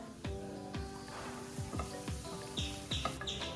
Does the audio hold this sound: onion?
yes